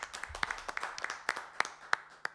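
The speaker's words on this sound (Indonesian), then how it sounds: "Tepuk tangan buat Eka Studio." A small group claps at a memorial event, producing sparse, uneven handclaps with distinct individual slaps that stay fairly faint and close throughout.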